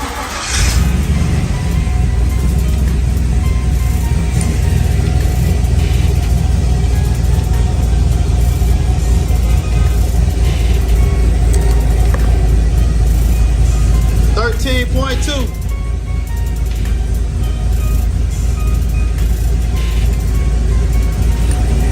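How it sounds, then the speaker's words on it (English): A car engine with an LS swap cranks and catches, then idles with a steady, loud hum while a person talks briefly over it. "Let me crank the car up real quick."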